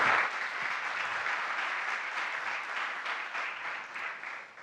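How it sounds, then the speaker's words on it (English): Conference audience applause follows a talk, a dense, steady burst of many hands clapping that fills the room, then thins out slightly toward the end, with no voices over it. "A big round of applause, please."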